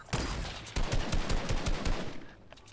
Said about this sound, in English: One shot. Sniped him.